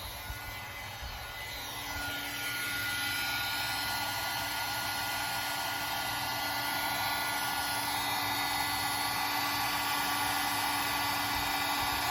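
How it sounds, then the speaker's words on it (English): A heat gun blows in a steady, loud whirring hiss, starting a little softer before rising to full, constant output for the rest of the span, close and without talk. "I'm just going to turn my heat gun on here, so it's going to be noisy for the next minute or so"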